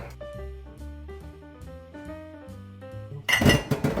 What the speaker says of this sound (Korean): 이 물을 가지고 한번 애벌 설거지를 하는 거예요.